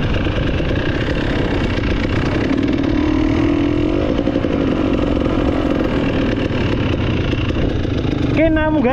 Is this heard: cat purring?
no